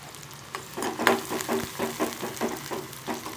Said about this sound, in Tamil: இது கொஞ்சம் நல்லா லைட்டாக ப்ரௌனாக வர வரைக்கும் ஆனியனை வந்து வதக்கிக்கிறணும்